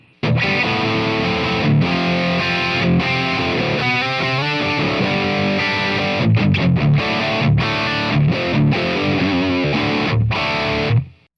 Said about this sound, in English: you can definitely dial in some really cool overdrive and distortion sounds with this plugin